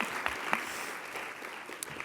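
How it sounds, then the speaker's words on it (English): Audience applause at an awards celebration: steady, fairly faint clapping from a crowd in a hall, with a few sharper individual claps standing out. "Now that's worth clapping"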